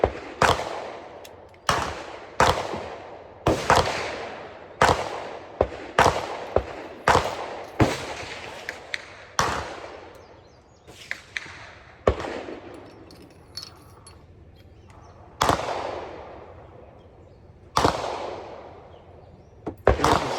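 Parts of a VR80 shotgun being reassembled, sharp metallic clacks and snaps arriving one after another at close range with short pauses between, no talk.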